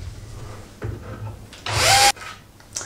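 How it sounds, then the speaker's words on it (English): A short burst from a power drill whines through wood for under half a second, between quieter handling noises and low rumble. "I can drill this through the entire way"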